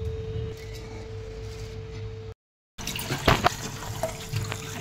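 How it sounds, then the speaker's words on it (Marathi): Water pours into a hot tava and splashes as the pan is washed, with steady running and sloshing, a short silent gap, then clattering rinse sounds. "आता का ह्यात पाणी घालून धुवून घेऊया मस्त"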